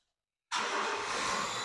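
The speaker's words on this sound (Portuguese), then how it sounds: "Essa falha aqui de centelha faz com que o carro dê tranco, né?" Honda Fit engine with a spark misfire, caught up close as it suddenly kicks in after silence and then runs steadily and loudly with a rough, uneven texture.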